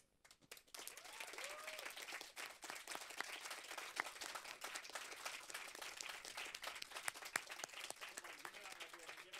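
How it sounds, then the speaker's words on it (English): Continuous audience applause with dense clapping after a song at a storytelling event, faint and somewhat distant, steady throughout. "Loud applause."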